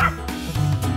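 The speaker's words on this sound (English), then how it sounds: "D is for dog." A cartoon dog in a children's animated show gives a couple of quick, close yipping barks within a single second.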